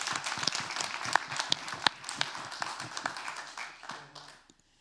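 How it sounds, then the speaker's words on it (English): Audience clapping after final pitches at an innovation fellowship event in Kenya, a dense burst of applause that thins out and fades to silence near the end, with no talking. "So give yourselves a round of applause."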